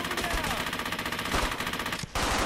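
Sustained machine gun fire in Brothers in Arms: Hell's Highway, a steady rattling stream of rounds with a brief break near the end before the firing resumes, loud and dense, with faint battle noise underneath.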